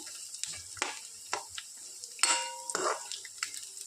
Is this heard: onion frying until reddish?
yes